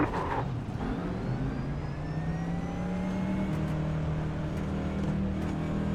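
NASCAR Next Gen stock car engine at Bristol in iRacing, a steady loud drone with rising engine pitch as another car draws alongside.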